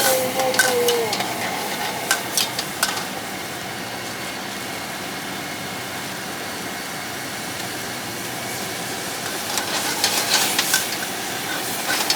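Holy basil and minced pork are stir-fried in a wok, with scraping, stirring clatter and a soft sizzle. Utensils clack at the start and end.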